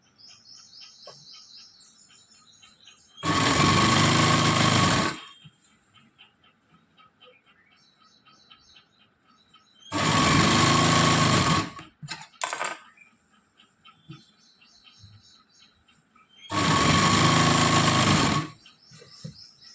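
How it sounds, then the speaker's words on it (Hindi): An electric sewing machine stitches the top section of a petticoat in three loud, steady bursts of a few seconds each, separated by quiet gaps where birds chirp faintly in the background. "अब मैं इसका ऊपर का भाग सिल रही हूँ।"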